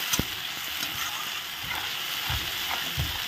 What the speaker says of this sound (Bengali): আদা বাটা দিয়ে এখন ভালো করে কষাতে শুরু করব।